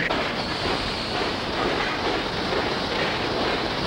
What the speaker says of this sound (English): The Royal Train is running away.